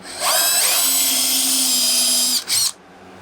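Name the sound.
power drill drilling pilot hole in wood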